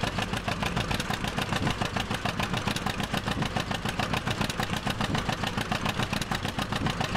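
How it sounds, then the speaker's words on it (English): Vintage John Deere 620 two-cylinder tractor engine running in Farming Simulator 17, a steady, rhythmic low chugging pulse, close and continuous with no talk. "you gotta love the sound of the old John Deere 2-cylinder"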